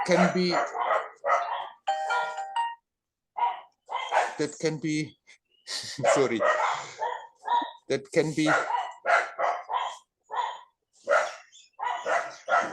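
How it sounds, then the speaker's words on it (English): A dog barks outside during an online talk session, the barks scattered and partly buried beneath continuous nearby speech. "my dog is also barking outside."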